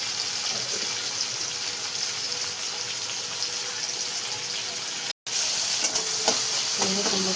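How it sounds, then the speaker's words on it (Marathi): Cabbage and green peas frying in a pan with onion, chillies and salt, stirred close by: continuous sizzling with a short gap, then louder sizzle and spoon scrapes. "आणि मस्त मिक्स करून घेतलेलं बघा."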